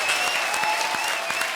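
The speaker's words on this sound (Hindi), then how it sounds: "ताली बजा रहा हूं।" Studio audience applause on a Hindi comedy show, brief dense clapping with a faint musical tone running beneath it.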